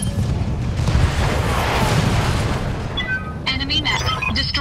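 A heavy mech landing a physical melee strike in the Battletech game, a loud, booming crash with a rumbling tail, followed by short electronic interface sounds.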